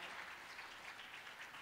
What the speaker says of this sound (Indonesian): Boleh tepuk tangan lebih meriah lagi?